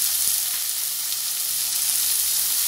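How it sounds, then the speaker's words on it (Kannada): Onions fry in a hot pan with a dense, even hiss of sizzling, steady and close throughout without any voices. "ಇವಾಗ ಈ ಈರುಳ್ಳಿ ಹಾಕ್ಕೊಳ್ಳೋಣ."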